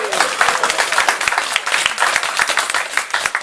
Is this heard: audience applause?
yes